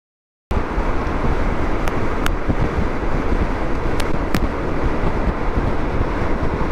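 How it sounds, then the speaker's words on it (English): Wind buffets the microphone while riding a Honda GoldWing motorcycle, a loud, constant broadband rush with engine and road noise blended in, broken by a few sharp clicks, starting abruptly after a moment of silence. "stupid wind."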